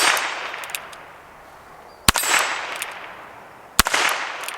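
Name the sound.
Ruger Wrangler .22LR shots at a steel plate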